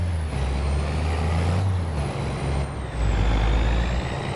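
A truck drives in Farming Simulator 25, with a steady, loud engine drone and a constant low rumble through the whole clip. A faint high whine runs above it and no one speaks.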